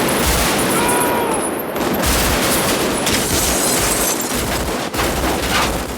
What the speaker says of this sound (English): the full load made moving through those automatic weapons, and the way the sound ricocheted off the walls of the buildings of an empty downtown